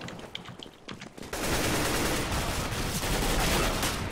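Heavy sustained gunfire from Counter-Strike: Global Offensive bursts in loud and dense after a short quieter lead-in, then rattles on continuously as automatic fire to the end.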